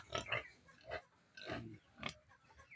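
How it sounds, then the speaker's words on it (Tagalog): Large White pigs on a farm give a few short grunts and squeals, in bursts spaced about half a second apart, close by and fairly loud, with no talk. "Ito yung mga alaga natin, mga baboy. Mga large white guys."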